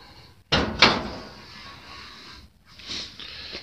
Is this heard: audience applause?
no